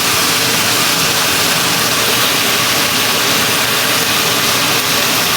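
A range hood blower roars steadily and loudly over a pan frying London broil, broadband and constant for the whole stretch, with no talk.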